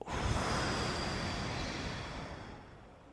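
One slow, deep breath, a soft, airy exhale that starts strong and fades gradually over a few seconds, heard close and alone.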